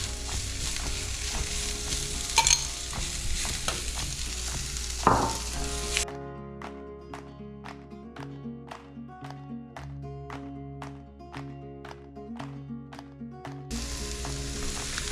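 Pulled pork for carnitas quesadillas fries in a pan with a steady close sizzle, broken by scraping stirs early on, while a rhythmic musical pattern plays over the middle stretch.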